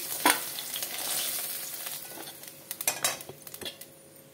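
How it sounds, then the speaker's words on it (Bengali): Sajne data (drumstick pieces) frying in oil for a potato and fish curry, with steady close sizzling under repeated utensil clinks and stirring scrapes against the pan. "এই তেলে আমি সজনে ডাঁটাটা ভেজে নিচ্ছি।"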